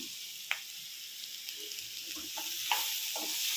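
Taro roots fry in a pan with a soft, constant sizzle, broken by a few light scraping clicks as they are stirred; fairly quiet and close, with no talking.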